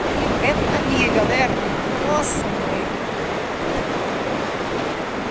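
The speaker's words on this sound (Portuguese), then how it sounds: "Nossa, galera, tá ventando demais mesmo." Strong wind roars steadily across the microphone, with a surf-like rush and brief faint voices in the background.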